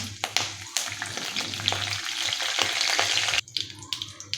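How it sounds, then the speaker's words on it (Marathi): Mustard seeds, cumin and curry leaves spluttering in hot oil in a kadhai, a busy close crackle of pops and spits that briefly drops away before resuming in sharp bursts. "इथे मी पाव चमचा मोहरी टाकते पाव चमचा जिरे कढीपत्ता टाकत आहे"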